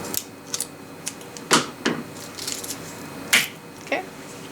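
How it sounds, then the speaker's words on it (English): Scissors snipping through a strip of hook-side Velcro for a DIY fix on Gen-1 Seizmik side-by-side uppers, a few sharp crunchy cuts close up, spaced irregularly in a quiet room. "take your sticky, like crunchy side of the Velcro and just cut a piece off"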